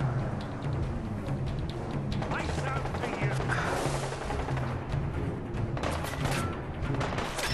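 Gunfire in Fallout 4 during a wasteland fight, repeated sharp shots and thuds over a busy background of combat noise, moderately loud and irregular, with occasional talk.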